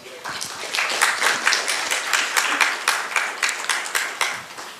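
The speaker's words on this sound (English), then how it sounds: "with a huge round of applause" An audience at a Mercedes-Benz Research and Development India technical talk claps steadily for several seconds, a dense, even patter of many hands close by with no voices over it.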